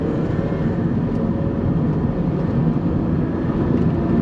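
A 2003 Toyota Avalon engine pulls steadily at half throttle from inside the cabin, a continuous low broadband drone that holds even and loud with no break.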